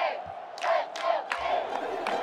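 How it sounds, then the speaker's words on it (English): A stadium crowd at a University of Miami sports game roars and cheers, with sustained broad noise and several rising whoops that swell and fade at a moderate distance. "you have an entire crowd of people just like cheering you on."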